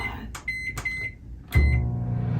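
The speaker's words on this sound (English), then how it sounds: "I'm going to set the microwave for 3 minutes total" Microwave oven in an RV, set to cook scrambled eggs, giving a few sharp keypad beeps before the motor kicks in with a loud, steady low hum that runs to the end.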